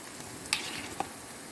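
Collard greens cooking in a pot with smoked meat at the bottom are stirred, giving a low simmering hiss broken by two brief scraping stirs.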